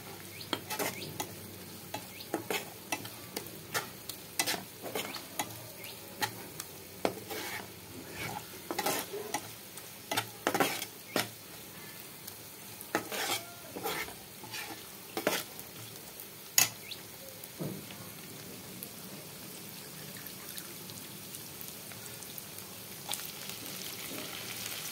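An egg bhaji frying in a pan with repeated stirring, producing steady sizzling under frequent scraping and clinking strokes throughout, close and fairly quiet, with no talk.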